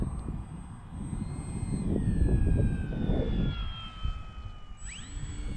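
Remote-control model airplane flying in to land on a runway, a steady engine drone with slowly falling whine tones and broadband rumble, continuous and moderately loud, ending with a sharp rising whine as throttle changes.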